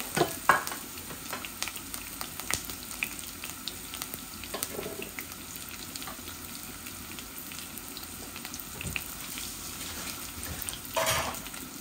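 Onion and garlic frying in a pan, a soft continuous sizzle with scattered stirring scrapes and a few louder clatters, fairly quiet and close, no talking.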